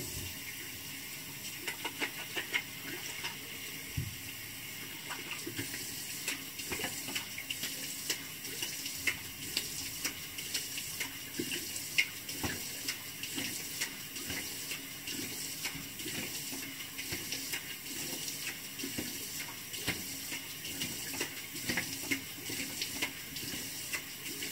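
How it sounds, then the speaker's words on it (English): Tap water runs steadily into a bathroom sink as a face is rinsed before shaving, a continuous hiss with irregular splashes and spatters, close and moderately loud. "So I'll rinse my face off and get started."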